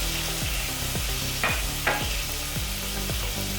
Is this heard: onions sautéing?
yes